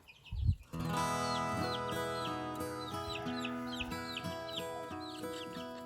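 Young spring chickens in a barn cluck and chirp in a busy, overlapping chorus, close and moderately soft, after a brief thump at the start.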